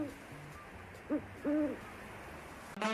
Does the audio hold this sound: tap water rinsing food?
no